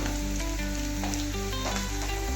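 Okra (bhindi) frying in a pan with homemade chili powder and turmeric, stirred through: a dense, continuous sizzle under steady background music.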